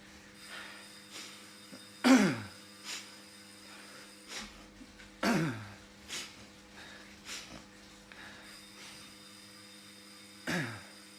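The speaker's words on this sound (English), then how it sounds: "so I always have to clear my throat during cycling" Several short, rough throat-clearing bursts from a cyclist during an indoor Zwift race, spaced a few seconds apart, heard up close over a steady low hum, with no talking.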